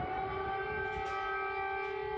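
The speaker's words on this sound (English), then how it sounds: "Air raid sirens rang out throughout the night and day" An air raid siren wails steadily in a Ukrainian city under attack, a sustained layered tone with no speech over it.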